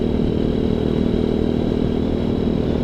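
A ZS190 Grom clone motorcycle fitted with a restrictive exhaust hums along at a steady pace on a ride, a loud, even, buzzy engine drone with no talking.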